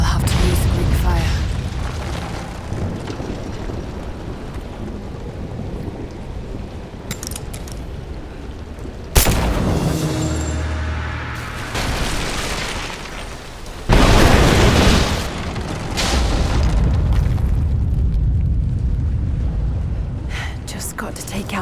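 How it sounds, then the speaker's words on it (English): Greek fire vessel exploding beside an unstable statue in Rise of the Tomb Raider, heavy booming bursts with rumbling debris that stand out from steady game ambience and occasional voice. "Looks like I'll have to use Greek fire."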